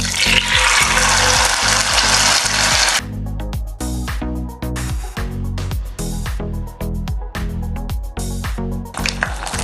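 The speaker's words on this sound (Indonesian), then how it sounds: "kita goreng si daun mitsuba" Mitsuba leaves deep-frying in hot oil for tempura make a loud, bright hiss at first. It then gives way to rhythmic mechanical whirring pulses with the frying still going underneath.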